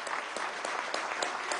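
A crowd applauds students at a government event in Venezuela where credits and housing are handed out to young people, steady, dense clapping heard from a distance, with no voices over it.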